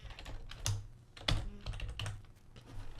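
Computer keyboard typing during code editing, a run of quick irregular keystrokes with a few heavier key hits, close and moderately loud, with no voices.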